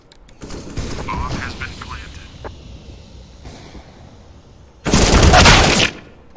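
FAMAS rifle fire in the video game CS:GO, with a loud, dense burst of automatic shots near the end, preceded by quieter game sounds and clicks; a voice talks over it.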